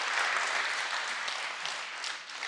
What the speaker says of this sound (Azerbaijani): Onları bir alqış istəyəyəm.